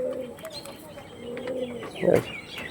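Blue-type pigeons of the Nildoma variety coo in a loft, a few low, rolling coos close by, with a soft flutter and a faint murmur of talk in the background.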